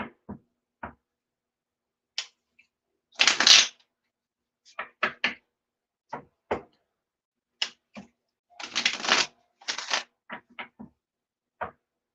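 Sharp riffles and quick snaps of a card deck being shuffled, in short scattered bursts with quiet gaps between, close up and alone.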